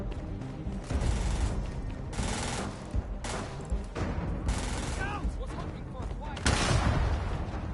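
Grenade blasts and gunfire in the sci-fi video game Starfield crack out in repeated loud bursts and rattling volleys, with a voice talking between them.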